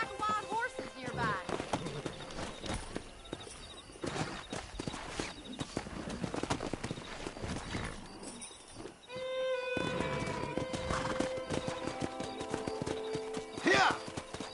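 A herd of wild horses in the Red Dead Redemption video game gallops with steady clip-clop hoofbeats and occasional whinnies, mixed with bird calls, game music and people talking.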